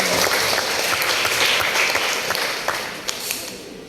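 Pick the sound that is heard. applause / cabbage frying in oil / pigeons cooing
applause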